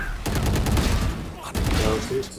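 Rapid bursts of gunfire in the tactical shooter Valorant, a loud cluster of close shots that stops briefly and then resumes, with a voice faintly heard beneath.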